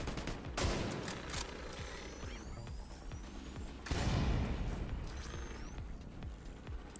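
Rapid gunfire bursts and a loud explosion in The Division 2, a third-person shooter, with shots crackling in quick volleys throughout and a heavy blast hitting near the middle, no voice over it.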